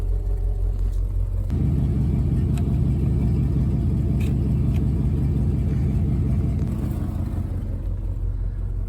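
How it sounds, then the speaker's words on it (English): An idling engine of a 1985 Ford Econoline truck runs steadily, a low, close, continuous rumble that deepens slightly after the first second and holds without talk. "Okay, truck is running."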